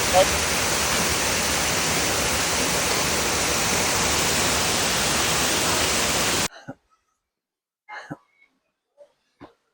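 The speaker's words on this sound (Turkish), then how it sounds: "doğa, şelale." Waterfall at Maşukiye in a natural valley, a loud, dense, even rush of falling water that stops abruptly partway through, followed by a few short voice sounds in quiet.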